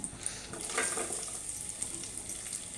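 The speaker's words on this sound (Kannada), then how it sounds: "ಈರುಳ್ಳಿ ಕೆಂಪಗಾಗುವವರೆಗೂ ಫ್ರೈ ಮಾಡಿಕೊಳ್ಳಿ" Onions and curry leaves fry in a pan over low heat for rice rava upma, giving a steady, soft hiss and crackle with faint stirring and no talk.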